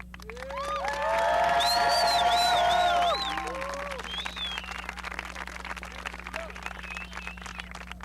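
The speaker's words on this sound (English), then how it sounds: "Students, please take this moment to recognize your parents, your relatives, your friends, and teachers who have supported you with a round of applause." Graduation crowd at a high school commencement applauding and cheering for parents and teachers, loud whoops and shouts over dense clapping that swells, then settles into sustained applause echoing in a large hall.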